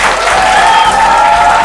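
Applause for the winners of a televised quiz game, a dense burst of clapping from a studio audience, loud and continuous throughout.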